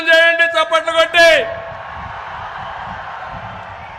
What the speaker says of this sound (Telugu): ఉంటే గట్టిగా సంకల్పం చేయండి, చప్పట్లు కొట్టి